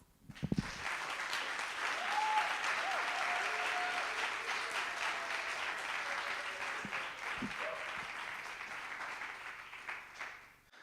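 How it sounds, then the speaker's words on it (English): An audience gives Mikey Siegel a long round of applause at a Consciousness Hacking event in San Francisco, a sustained dense wash of clapping that swells early and slowly tapers off, with a few voices underneath. "give Mikey a huge round of applause"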